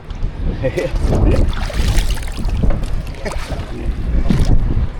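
A small Filipino outrigger boat (bangka) at a fish corral knocks and sloshes on choppy waves, with loud wind buffeting throughout and voices over it.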